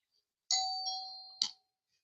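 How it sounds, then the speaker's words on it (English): A two-tone doorbell chime rings once, a sustained ding followed by a sharp dong, clear and fairly close in an otherwise quiet room around Halloween, with no talk over it. "do you hear a doorbell?"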